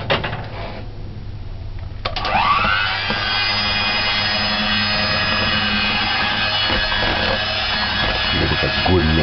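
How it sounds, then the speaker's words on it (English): An electric kitchen mixer starts up and runs steadily as it mixes raspberry-chocolate marble cake batter, giving a loud, continuous whining motor drone close by after a brief quieter lead-in. "I'm going to use a mixer now"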